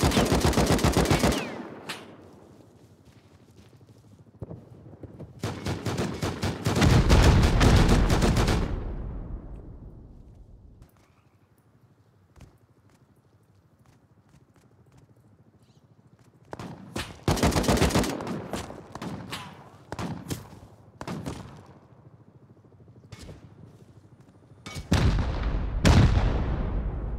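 Repeated gunfire in the survival game Rust, with loud bursts of rapid shots around 0–9 s and again from 17–27 s, separated by quieter stretches of sparse single cracks.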